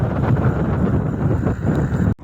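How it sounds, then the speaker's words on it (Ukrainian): Strong wind buffets the microphone on a hilltop above the Pacific beaches near Caldera in Chile's desert, a loud, continuous roar that cuts off abruptly near the end. "Блін, вітром трошки носить мене."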